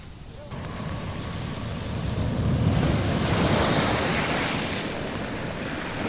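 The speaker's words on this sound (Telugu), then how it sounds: "ఉప్పాడ సముద్ర తీర ప్రాంతంపై రాకాసి అలలు ఉవ్వెత్తున ఎగసిపడుతున్నాయి." Rough sea surf pounds the Uppada coast near Kakinada during a cyclone, a steady roaring wash of waves with gusting wind buffeting the microphone, loud and continuous with no talking.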